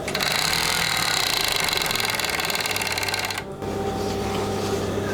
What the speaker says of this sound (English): I had a bit of an issue with this machine before, so I'm hoping that it sews okay.